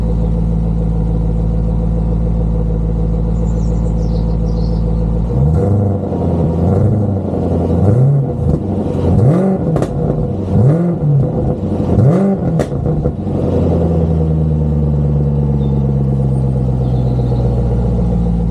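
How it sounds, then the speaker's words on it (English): A cold 5.0 Jaguar XF engine with a 3-inch exhaust, valves closed, idles with a deep, muffled burble, then is revved gently several times in rising and falling swells before settling back to a steady idle. "I'll give it a gentle rev with the valves currently closed."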